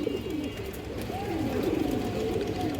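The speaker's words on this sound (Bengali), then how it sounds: "এই যে দেখেন নরের ডাকটা একটু দেখাই দিলাম আপনাদের" A male pigeon coos in repeated low, rolling calls, close and steady over a constant background hum.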